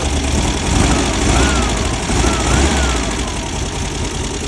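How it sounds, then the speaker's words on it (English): A 1970 VW Bug engine idles steadily with no throttle cable attached, giving a continuous low rumble with a slightly uneven, knocking pulse, close and fairly loud throughout. "It's all dialed in pretty much with no throttle cable hooked up."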